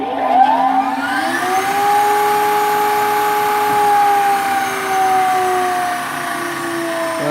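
A simple belt-driven spindle spins with a steady tonal whine and hum, winding up at the start and then holding a constant pitch.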